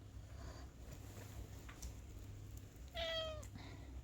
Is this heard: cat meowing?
yes